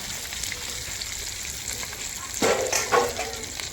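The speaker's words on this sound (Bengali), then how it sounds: "এখনো মাছ ভাজা শেষ হয়নি" Fish fry in oil during a home festival cooking session, a steady close sizzle with a couple of sharper crackles and clinks toward the end.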